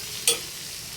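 Onion roasting in a pan for eggplant bharit, a brief stir-scrape over a steady soft sizzle lasting about a second.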